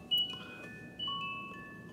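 A Reuge automaton musical alarm pocket watch plays a song, with a tinkling comb melody of clear, bell-like sustained notes picked out one after another, close and quiet and with no talk.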